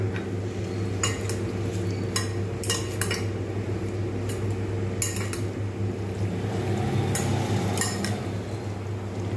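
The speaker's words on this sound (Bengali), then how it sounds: "টক দই দিয়ে আমি কিন্তু এগুলো মেশাতে থাকবো" Spoon stirring soaked sabudana with sour curd in a bowl, a steady close scraping and clinking of metal against the dish with occasional sharper chinks, over a constant background hum, no talking.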